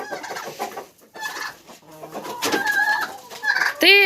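A rooster clucks and crows close by, several short calls ending in a loud rising cry, with a voice briefly speaking between them.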